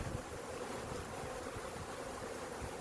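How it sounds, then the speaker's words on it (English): Honeybees in an opened hive during a cutout, a soft dense buzzing hum that holds steady and faint throughout with no voices. "There's a lot of bees in here."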